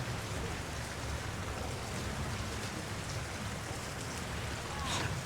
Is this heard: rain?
yes